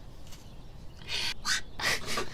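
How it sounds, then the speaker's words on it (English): Bird song in an indoor room, with bright chirping bursts arriving in three clusters after a quiet opening, loud and close. "And now you may sing again."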